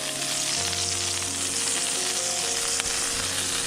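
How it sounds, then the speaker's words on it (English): Peppers and onions sauté in a non-stick pan inside a camper, giving a steady, loud, dense sizzle with a few faint clinks and no talk. "Peppers and onions are sauteing in the non-stick pan."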